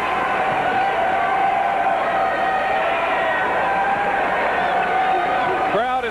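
Crowd noise at a women's college basketball game, Tennessee Tech against the Lady Tigers, a steady loud roar of cheering voices with a person speaking over it.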